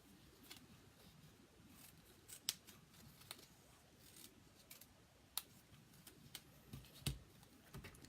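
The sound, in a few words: cutting a paper template with scissors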